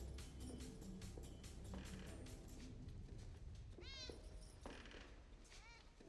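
A cat meows in a scene from the 1999 film The Matrix, a few distinct rising-and-falling meows over a busy film soundtrack, with people talking over it.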